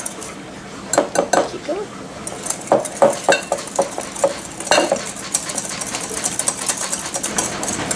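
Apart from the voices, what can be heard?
whisking cream cheese mixture in a bowl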